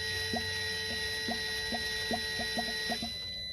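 Air bubbles gurgle through the coolant lines of a BMW B58 heat exchanger while the pump runs, a series of about ten soft, quick blips at irregular intervals over a steady electrical whine and hum.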